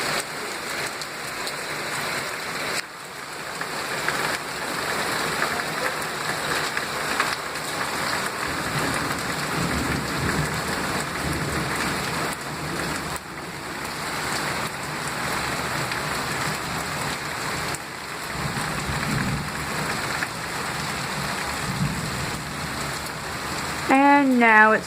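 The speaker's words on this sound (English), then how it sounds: "And if I'm quiet for a few minutes, you may actually hear the thunder." Heavy rain pours steadily on surfaces outdoors near trees, a dense close wash of drops throughout; faint low rumbles may be distant thunder, and a brief creak sounds at the very end.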